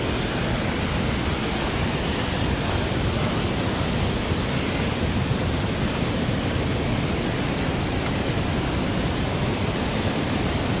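Roar of the Manpikada waterfall, a loud, broad, unbroken rush of falling water heard up close, steady throughout with no voices and no let-up.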